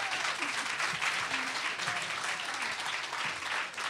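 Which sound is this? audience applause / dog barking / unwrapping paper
audience applause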